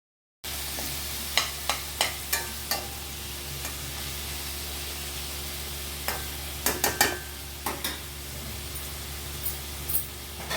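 Potato pieces fry on a low flame in a pan, a faint background sizzle over a steady stove hum, punctuated by irregular clinking spoon stirs, close and quiet without speech.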